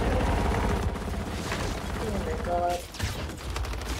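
Gears 5 campaign battle with sustained gunfire and grenade blasts, a dense loud barrage that briefly dips and resumes, with a shouted voice over the din.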